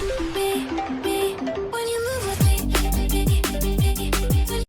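An excerpt of a pop song plays loud and alone, a synth melody giving way to a driving beat with punchy bass hits.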